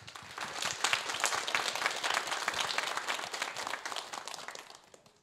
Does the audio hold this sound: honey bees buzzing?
no